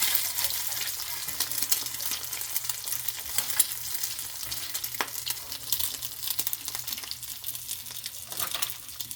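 Eggs fry in a pan with a steady close sizzle, broken by scattered sharper crackles and pops, with no voices over it.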